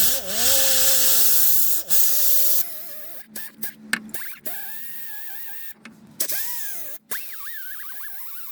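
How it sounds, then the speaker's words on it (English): A wire wheel grinds corrosion off a Nissan Altima steering knuckle, a loud continuous whirring scrape whose pitch dips and rises as the brush is pressed and lifted, with short breaks between passes and no talking. "I use Scotch-Brite pad and a wire wheel to clean it up."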